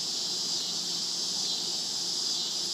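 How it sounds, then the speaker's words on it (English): Tree peepers or locusts in thick Tennessee woods near Morristown keep up a dense, continuous high-pitched buzzing chorus, faint and distant, with no voices. "Either those are tree peepers or locusts."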